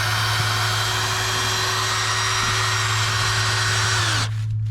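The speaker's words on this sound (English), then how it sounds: "now just turn on your drill." A power drill spins a flexible dryer vent cleaning brush inside a duct, giving a steady close whine and hum that winds down and cuts out near the end, with faint scraping beneath.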